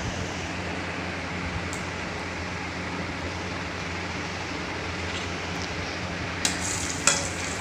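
Steady, dense sizzling of spices tempering in hot oil, with green chilli, continuous throughout with a couple of sharp clinks near the end; no talking.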